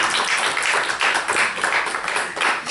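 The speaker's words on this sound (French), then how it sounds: "Je vous demande d'applaudir" Dense crowd applause at a formal ceremony honouring a dignitary, many hands clapping steadily and loudly throughout, with no talk over it.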